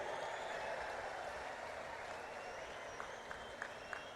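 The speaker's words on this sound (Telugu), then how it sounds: "నరేంద్ర మోడీ గారికి గట్టిగా చప్పట్లు కొట్టి స్వాగతం పలకండి" A large crowd claps to welcome Prime Minister Narendra Modi at a public rally, a dense, even wash of applause heard from a distance, sustained without a break.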